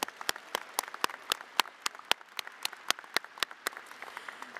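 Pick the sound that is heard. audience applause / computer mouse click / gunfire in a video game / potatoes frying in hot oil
audience applause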